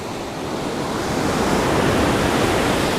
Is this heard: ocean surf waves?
yes